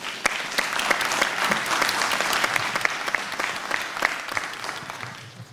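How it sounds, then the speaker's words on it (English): Audience applause for a panel of speakers at a July 2010 candidate information session, dense and steady with many hands clapping at once, sustained at an even level from start to finish. "Let's give another round of applause to our panelists."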